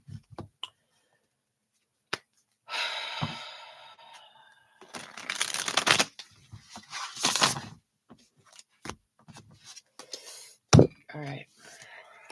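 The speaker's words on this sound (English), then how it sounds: "I've got this giant triple deck of cards here. So I'm just going to shuffle it a little bit" A giant triple deck of tarot cards being shuffled, with soft riffling bursts and scattered taps and clicks, fairly quiet and irregular, alone without talk.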